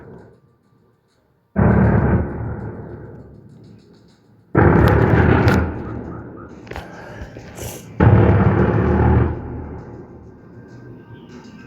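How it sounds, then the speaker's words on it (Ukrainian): Three loud, booming blasts of Shahed drones being shot down, a few seconds apart, each with a rumbling tail that slowly fades into quiet. "Так, ці звуки вибухів дуже гучні."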